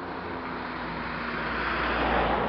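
A car passes on a town street beside a school in Gien, soft rushing road noise swelling gradually toward the end, moderately distant with faint wind, no speech.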